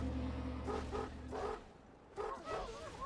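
Wolves attacking in the video game Titan Quest, a series of short yelping and snarling bursts in two clusters over a steady low game drone.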